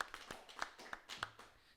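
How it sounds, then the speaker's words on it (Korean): A church congregation gives faint, sparse applause during a Sunday service, with a handful of distinct claps spaced apart at low volume over a quiet room. "하나님께 영광의 박수 돌려드리겠습니다"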